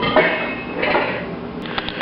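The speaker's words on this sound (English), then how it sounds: "just put away your dishes" Dishes and utensils clink and clatter softly as they are put away in a kitchen, a short run of light scrapes and taps ending in a few sharper knocks.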